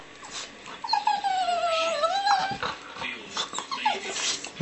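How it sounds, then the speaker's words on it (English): Dogs fighting in close, frantic bursts of yelps, whines and growls, with one drawn-out rising and falling whimper cutting through the scuffle. "dogs killing each other"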